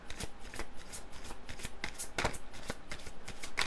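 Tarot cards being shuffled during a reading, a close, continuous riffling patter with sharp flicks and snaps, no talking.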